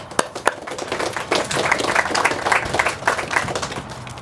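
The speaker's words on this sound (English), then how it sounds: "Please give a round of applause and welcome Hal to the stage" Applause from a press conference audience at an apartment groundbreaking, scattered hand claps building into steady clapping that carries on for several seconds at moderate loudness.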